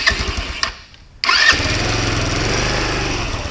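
A scooter engine with its stock exhaust sputters through a starting attempt, falls briefly silent, then catches with a sharp burst and settles into a steady, close, fairly quiet idle.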